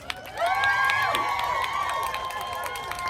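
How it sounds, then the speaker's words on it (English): A crowd at a child abuse awareness rally cheers and claps outdoors, rising suddenly into bright whoops and shouts over scattered applause that gradually settles. "One more big round of applause."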